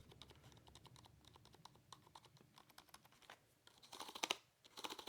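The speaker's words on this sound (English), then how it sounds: "nice good look overall at the different keys and the noise they make" Keys on a Logitech K400 Plus wireless touch keyboard clatter in quick, quiet taps close by. The typing runs steadily and turns into a louder flurry near the end, with no talk over it.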